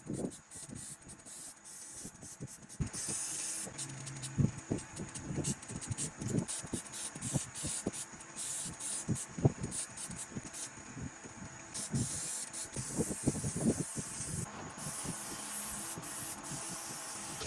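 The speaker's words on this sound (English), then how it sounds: "Now I'm using the airbrush to go in and add some contrast" Airbrush hissing as it sprays paint onto a homemade glowing Halloween outdoor fountain decoration, bursts of airy spray starting and stopping in short, steady pulses at moderate volume throughout.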